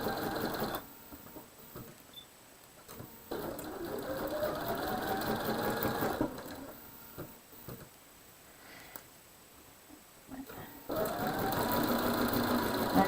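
Sewing machine stitching quilt pieces, a steady close mechanical whirr running in several bursts that stop and restart, with a voice talking between and over the stitching.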